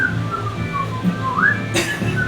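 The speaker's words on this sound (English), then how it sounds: "just like whistling the fucking song from Wizard of Oz" A person whistles a short melody from Wizard of Oz, clear and close, with rising and falling notes over a low background murmur.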